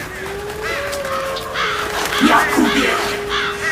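Crows caw a few times in a forest scene of a Polish Witcher radio drama, rough calls rising briefly behind a loud shouted voice and a sustained tone.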